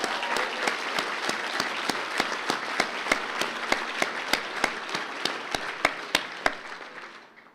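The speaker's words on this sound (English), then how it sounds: "Can we give them a round of applause?" An audience applauds the Winnebago Class C boys basketball champions at a breakfast gathering, with steady, dense clapping from a sizable crowd lasting several seconds. A few sharper individual claps stand out, and the sound fades toward the end.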